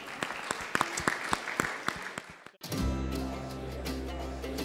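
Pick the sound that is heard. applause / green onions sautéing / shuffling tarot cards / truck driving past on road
applause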